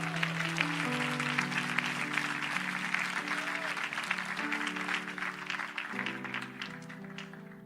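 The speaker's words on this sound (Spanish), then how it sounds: "Dele fuerte ese aplauso a Cristo si cree." A church congregation at an evangelical service applauding, steady dense clapping throughout with a sustained organ-like musical tone underneath.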